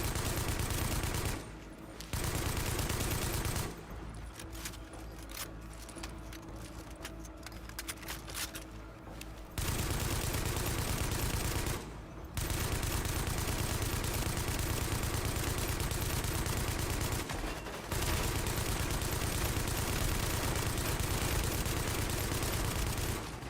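A light machine gun in a video game fires long, dense sustained bursts for more than twenty seconds. The loud, continuous rattle breaks off only for brief pauses between bursts, and no one speaks.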